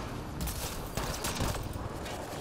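Pistol fire in Mass Effect Andromeda, a handful of sharp shots in quick succession over a dense, noisy game soundscape, fairly loud and close.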